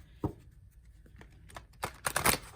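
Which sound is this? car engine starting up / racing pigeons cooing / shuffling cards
shuffling cards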